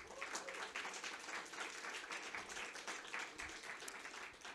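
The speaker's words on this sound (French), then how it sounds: "On peut les applaudir" A crowd at an event with a serving team from a brasserie claps together, a faint, even patter of many hands heard from a distance and holding steady for several seconds.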